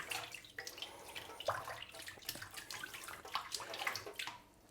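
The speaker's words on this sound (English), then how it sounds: "And I'm just gonna swirl it a little bit or stir it around." A spoon swirls and stirs water in a container for watering a plant, giving soft, uneven sloshing and gurgling splashes, close and fairly quiet, fading out at the end.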